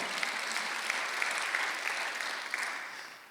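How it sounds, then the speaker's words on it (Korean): A church congregation at a Sunday worship service bursts into steady applause, a dense wash of many hands clapping together in a large room, sustained and even with no speech over it. "지금 박수하자."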